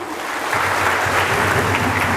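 A crowd claps enthusiastically, a dense, steady burst of applause filling the room for a couple of seconds.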